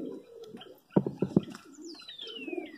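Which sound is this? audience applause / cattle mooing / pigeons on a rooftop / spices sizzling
pigeons on a rooftop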